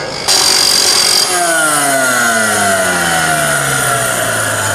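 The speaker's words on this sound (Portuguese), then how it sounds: "Eu estou usando a esmerilhadora para fazer a limpeza" An angle grinder cleans a steel joint ahead of welding. A loud, close, sustained whine jumps in as it engages, then settles into a steady grind as the pitch of the spinning disc slowly drops.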